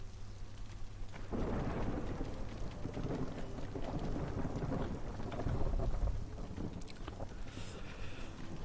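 Storm-season weather in the video game Against the Storm: a steady roar of rain broken by deep rumbling thunder, loud and sustained throughout with no talk.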